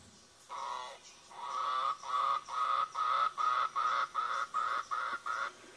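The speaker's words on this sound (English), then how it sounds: "The mangrove cuckoo." A mangrove cuckoo in Jamaica calls in a long series of harsh, rhythmic notes that speed up and grow more clipped, fairly close and clear over faint background noise.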